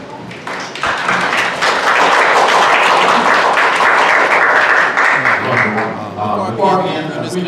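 A church audience at a vacation Bible school event claps steadily for several seconds, the dense patter of many hands rising and then thinning, with a voice speaking over it toward the end.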